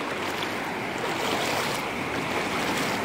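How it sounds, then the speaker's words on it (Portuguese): Rough, violent floodwater rushes over a wet road crossing between rural sites, a loud, steady broadband roar that fills the whole clip with no break. "A água aqui tá mais braba, tá vendo, ó. Tá mais braba, mais violenta, ó. Muita água."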